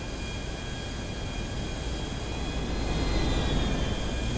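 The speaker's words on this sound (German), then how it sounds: "Da kommt ein Flugzeug genau gegen mich." Airplane flying toward the player in a flight video game, a steady, even engine roar that swells slightly louder toward the end, with no talk over it.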